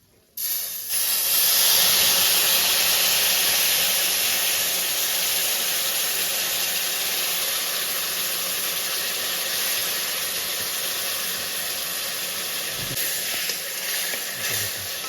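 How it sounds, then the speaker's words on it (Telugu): Tamarind juice poured into a hot tempering bursts into a loud, broad sizzling hiss that holds steady for about fourteen seconds, with faint stirring knocks near the end and no voices. "ఇప్పుడు బాగా వేగింది కాబట్టి ఇప్పుడు చింతపండు రసం అనేది వేసుకుందామండి"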